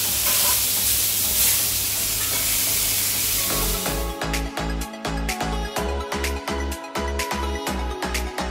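A sous-vide steak sears in a hot pan right after being flipped, a loud, steady sizzle with hiss for about four seconds before a rhythmic, thumping music beat takes over.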